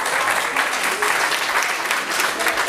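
Broad, steady clapping from an audience at a public talk, continuous and fairly loud across the whole stretch with no clear gaps or speech on top.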